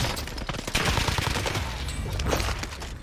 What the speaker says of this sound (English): I'm picking a sniper. I'm sniping this kid.